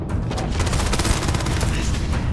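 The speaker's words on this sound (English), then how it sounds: "now I use my pistol to finish him" Sustained rapid bursts of game gunfire from Starfield, a pistol being fired repeatedly at close range, dense and loud with overlapping shots and no talking over it.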